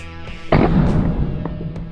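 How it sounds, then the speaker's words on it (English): A silenced air rifle fires a follow-up shot at a pigeon during pest control in South Africa, a single muffled thump followed by a brief rushing tail, heard close and fairly loud. "and I could take a follow-up shot."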